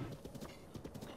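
Horse hooves clip-clop steadily on the ground in Breath of the Wild, a quick, even rhythm of close, moderately loud hoofbeats with a faint hum beneath.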